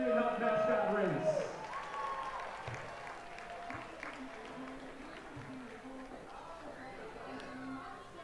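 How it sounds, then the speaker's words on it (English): Baseball stadium crowd at a High Point Rockers game applauds and cheers a mascot race winner, a broad wash of clapping and chatter that starts strong and eases slightly, with scattered voices throughout. "Give us a round of applause for winning our Adrian Health mascot race"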